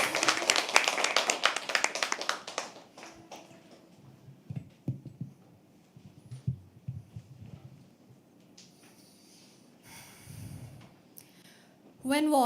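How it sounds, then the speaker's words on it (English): Audience applause at a live poetry open mic at The Habitat, a dense burst of clapping at the start that thins into scattered claps, with voices talking over and between it. "Keep clapping. Let's say comes on stage."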